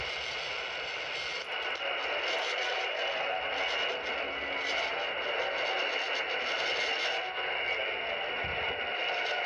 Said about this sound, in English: Look at all that interference too. It might be from power mains.